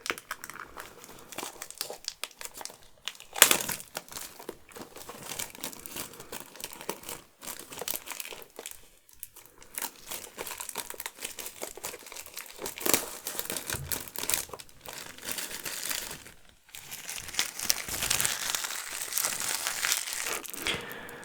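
Plastic wrappers crinkle and crackle continuously as a Pokémon booster bundle is opened, close and fairly quiet, with irregular bursts of rustling and tearing and no talk.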